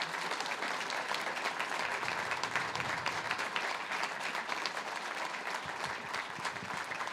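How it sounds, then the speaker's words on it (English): An audience applauding debate candidates at a county council debate, dense sustained clapping filling the room for several seconds, steady and fairly loud with no talk over it. "let's give a round of applause for both of them for running"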